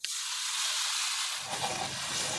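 A cup of water poured into hot fried masala for Maggi noodles sets off a sudden loud hiss that holds steady, with bubbling rising toward the end, close up and with no talk.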